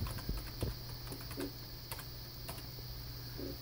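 Typing on a computer keyboard while creating a new account, heard as scattered quick key clicks in short bursts, fairly close, over a steady background hum.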